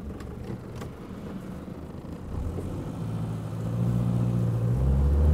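A 1959 Mercedes 180D diesel engine idles with a steady low rumble that grows slightly louder and deeper toward the end, heard close with no talking.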